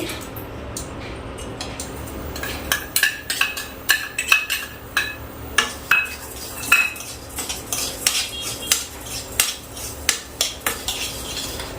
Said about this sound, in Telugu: ముందుగా బాయిల్ చేశాను కదా పప్పు అందులో అటుకులు వేసుకోండి